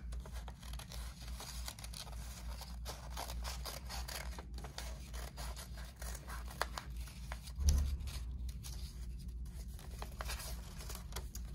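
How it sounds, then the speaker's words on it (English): Scissors snip through paper for a printmaking cutout while the paper is turned to shape curves, giving a quiet, close series of irregular crisp cuts and rustles with a slightly stronger snip near the end. "turn the paper while I'm cutting than trying to turn the scissors"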